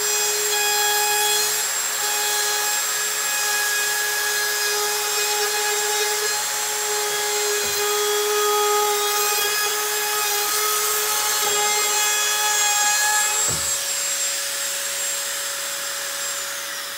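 An ON18 router cuts into wood with a loud, steady high-pitched whine that holds for the whole stretch, with the pitch dipping briefly under load a couple of times near the end.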